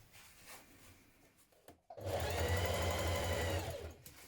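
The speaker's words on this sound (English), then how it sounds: "you're going to stitch your collar pieces together" A sewing machine stitching denim jean jacket collar pieces together. After some quiet handling and a brief pause, a loud steady motor whir and needle chatter run for about two seconds, then stop.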